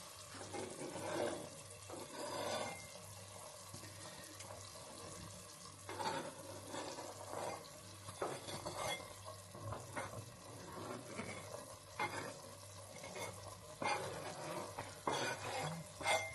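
Vegetables go into a pot of spicy Hungarian goulash and are stirred, giving soft scraping and clattering strokes that recur in irregular bursts over a low background hiss.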